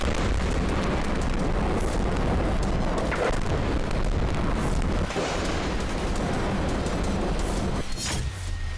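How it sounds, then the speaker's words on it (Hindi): Russian missile strikes hit Ukraine, with deep booms and rumbling blasts building into a dense, continuous roar of heavy explosions and a few sharper bursts, loud throughout with no talk. "रूसी सेना ने यूक्रेन में 100 से ज्यादा मिसाइलों से धावा बोला"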